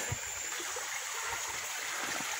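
A creek flows in a wooded area near a farm, giving a continuous close rushing and burbling wash with a few faint low knocks, and no one speaks.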